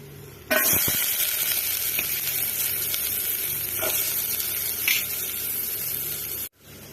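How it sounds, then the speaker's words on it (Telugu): Sliced onions tipped into a kadai just used for frying rice-flour vadiyalu burst into a loud, close, continuous sizzle that starts abruptly and crackles steadily for several seconds before cutting off. "అదే బాండీలో అయితే ఈసారి ఉల్లిపాయలు వేసేసుకుందాము"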